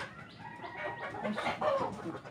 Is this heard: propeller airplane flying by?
no